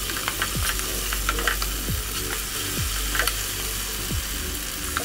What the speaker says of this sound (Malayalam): അതോടെ ഇട്ടിട്ട് നന്നായിട്ട് അത് ഈ മസാലയിൽ നന്നായിട്ട് പിടിക്കണ വരെ ഒന്നുകൂടി ഇളക്കി കൊടുക്കുക